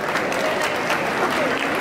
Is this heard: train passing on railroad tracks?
no